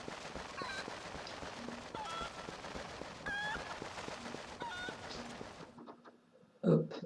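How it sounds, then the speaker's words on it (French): Chickens in the Zelda Twilight Princess video game give short, repeated clucks and squawks over a pattering background, with a louder burst near the end after a brief quiet gap. "Hop, avec moi le poulet."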